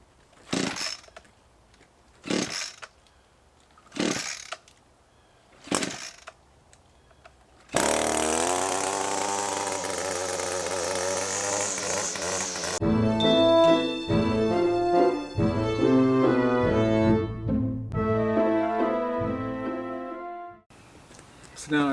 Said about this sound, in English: I'll use the leaf blower to blow the grass. So I need to start the leaf blower.